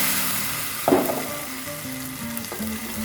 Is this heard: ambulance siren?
no